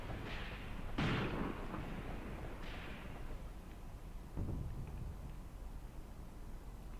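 Mortar fire in the wartime tactics game Graviteam Tactics comes as a few muffled distant booms and thumps, spread out over a steady rushing noise bed.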